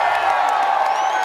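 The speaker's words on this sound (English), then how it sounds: "How about a huge round of applause?" A large concert crowd at a Motley Crue and Def Leppard show roars and cheers continuously, a dense wash of whoops and shouts with some clapping, loud and sustained without a break.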